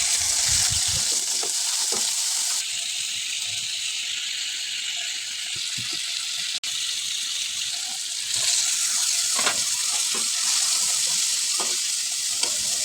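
Loud, steady sizzling of okra and shrimp curry set on to cook in a pan, a constant hiss with occasional clicks and stirring knocks throughout.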